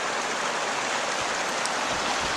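Steady broadband rush of a mountain stream flowing on the trail up Timpanogos, loud and close, continuous without pause and no talking.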